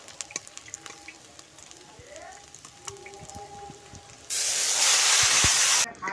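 Spice paste frying and being stirred in a pan for a bottle gourd and shrimp curry: soft scraping and light sizzle, then a sudden loud burst of steamy hiss near the end that cuts off abruptly.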